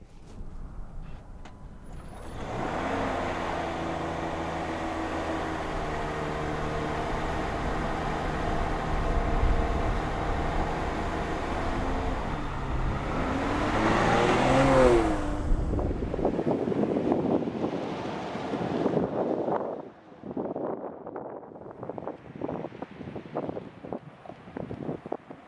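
A Land Rover Defender 90 First Edition two-door is driven on the road, with a steady engine and road roar plus wind rushing for about fifteen seconds, then a lighter rumble with intermittent bumps.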